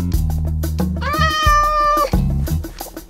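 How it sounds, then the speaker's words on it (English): Cats meowing inside a Minecraft house, a long drawn-out game meow standing clearly over steady background music, with shorter mews before and after. "This place needed some cats."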